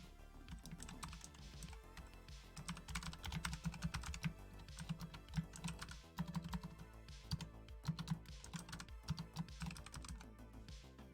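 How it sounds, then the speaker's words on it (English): Fast, uneven clatter of typing on a computer keyboard, close and continuous with brief pauses between bursts of keystrokes, no talking. "I am just having the hardest of times typing"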